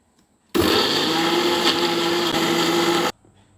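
Kitchen blender grinding salt, tamarind and onion for mint chutney, a loud continuous whirring roar that starts abruptly, runs about two and a half seconds and cuts off sharply.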